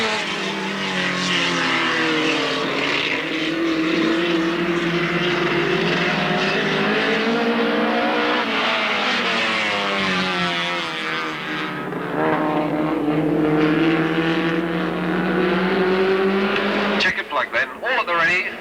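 Race cars lap the Alwalton track, their engines a continuous droning whine that rises and falls as they circulate, with a commentator talking over it throughout.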